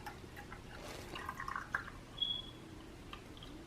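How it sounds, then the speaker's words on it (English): Rice water poured off soaked rice in a bowl, a soft trickle and a few faint drips up close, quiet and brief with no talking. "all I'm doing right here is just going to be separating the water from the rice, leaving the rice at the bottom of the bowl."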